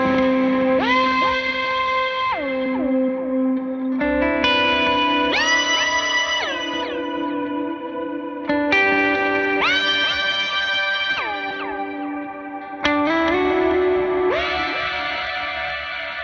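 Dreamy Specular Tempest reverb fed into a Meris Mercury X, with sustained chords whose pitch bends and sweeps up and down in four long swells, washy and loud, no talking.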